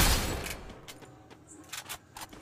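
Gunfire bursts from the Free Fire video game during a Clash Squad match on the Bermuda map: a loud, dense volley at the start, then scattered sharper shots fading to quieter pops.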